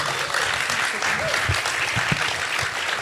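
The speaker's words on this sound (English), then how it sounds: "Let's give a big round of applause for all of our speakers today." A crowd applauds steadily, dense clapping filling the space with a few louder claps and faint voices mixed in.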